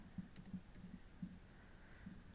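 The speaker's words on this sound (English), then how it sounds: "I'm just typing in the first few letters" Keys are tapped on a computer keyboard to enter sales figures, producing faint, irregular clicks in quick succession in a quiet room with no talking.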